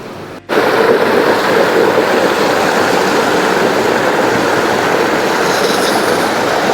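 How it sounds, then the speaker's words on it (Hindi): Loud, continuous rush of flowing water, broad and steady like a nearby waterfall, starting after a brief quieter moment. "सुबह सुबह पानी का आवाज एकदम"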